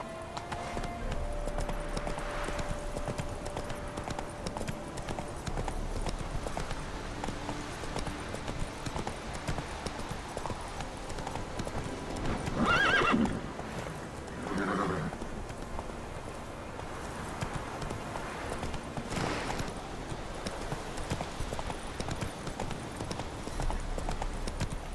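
Horse hooves clip-clop at a steady gallop in The Witcher 3, a continuous rhythmic trot under game ambience with a brief louder burst midway that may be a neigh.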